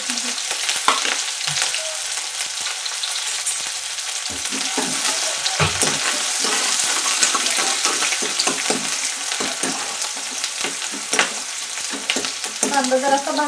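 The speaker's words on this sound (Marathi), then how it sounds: "मोहरी तटते बघा." Mustard and cumin seeds crackle and spit in hot oil in a pan, a dense, loud, continuous sizzle scattered with sharp pops, close up and with no voices.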